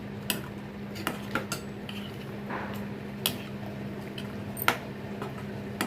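A utensil clinks and scrapes in a pot of mushroom gravy as mint and coriander are stirred in, with a steady low hum and a few sharp metallic taps spaced through the stir.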